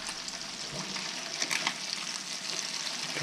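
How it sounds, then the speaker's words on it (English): Redfish fillet frying in a pan gives a steady, close sizzle with crackling pops and faint stirring scrapes, with no talking over it. "the redfish has been cooking about 2 minutes on one side"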